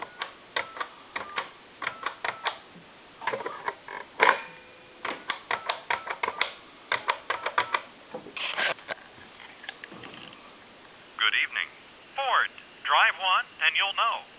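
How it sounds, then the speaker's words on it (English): A rapid series of short clicks and tones like a number being dialed on a Western Electric 2500 desk telephone line, with brief pauses between digits and some bursts of talk. "I'm going to dial a time and temp number."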